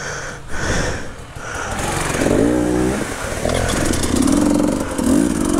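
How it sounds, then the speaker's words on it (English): An old RFS 525 dirt bike engine revs on a creek trail ride, rising and falling in pitch over a rough, rattly background, fairly close and loud. "Sammy's on an old RFS 525 from back in the day. Absolutely solid bike."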